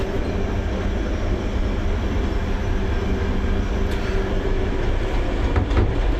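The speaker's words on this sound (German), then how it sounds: "Und wir sind immer noch im Zug von Stuttgart nach Venedig." A night sleeper train from Stuttgart to Venice rolls along with a continuous dense rumble and faint rhythmic wheel clatter, heard steadily from inside the carriage.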